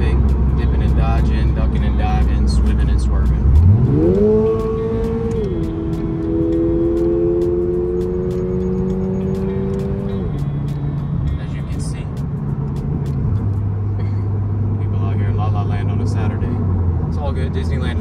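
A car rolls through Anaheim traffic, its engine note climbing through clear gear shifts and then settling into a steady drone, with a constant road rumble beneath and a few sharp knocks along the way.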